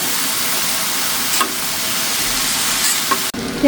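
A vegetable charchari with fried fish, onion and green chillies sizzles loudly in a pan while being stirred, a steady close frying hiss with a few scraping bumps and a brief break near the end.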